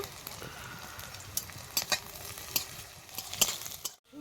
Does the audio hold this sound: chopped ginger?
yes